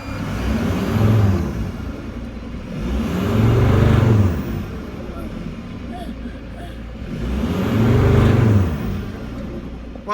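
Mercedes Sprinter van engine with a turbo actuator fault and P299 underboost code, revved in repeated swells that rise and drop back, held below about 3,000 RPM, with a steady whir beneath and someone talking over it.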